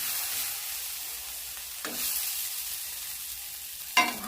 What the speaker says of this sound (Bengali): এবার ডালগুলোকে ভালোভাবে ভেজে নিতে হবে।